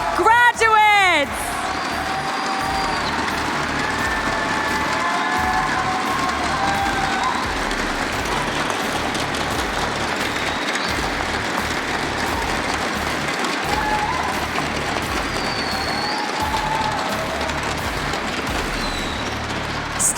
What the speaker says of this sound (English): If we can please get a round of applause from the audience for our 2 graduates.